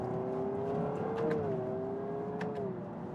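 A Honda Prelude's engine hums steadily as it shifts down, its pitch dipping slightly as the revs change, with a couple of brief clicks over the drone.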